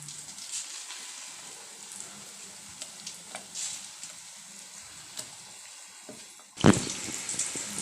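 Pumpkin bhaji frying in hot oil gives a steady, soft sizzle with scattered crackles, and a louder burst of bubbling near the end.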